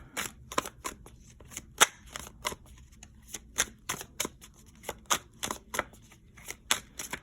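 A tarot card deck being shuffled by hand, with sharp, irregular riffling snaps and flicks repeating throughout, close and clear with no talking.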